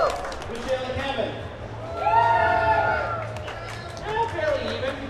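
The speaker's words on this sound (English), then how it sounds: "We got one loud roar in front here" A crowd at a live saltwater aquascaping contest in Dallas gives short swells of cheering and whooping voices, one of them louder near the middle, over a murmur of chatter.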